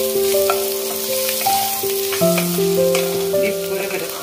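Garlic pieces and chopped onions fry in a pan until lightly browned for a cauliflower and cashew do pyaza curry: a loud, steady sizzle with stirring scrapes and clinks, plus sustained tonal background music.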